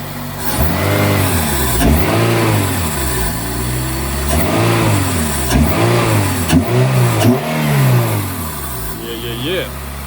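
A 2005 Toyota Corolla XRS engine revs repeatedly, rising and falling in steady swells with air rushing through the intake and pipe, loud and close, with brief settling between pulls.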